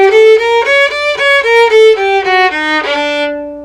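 A bowed violin climbs an Ahava Rabbah (Freygish) mode scale with a low sixth and high seventh, one clear sustained note after another with short bow changes between them, played up close with no other sounds.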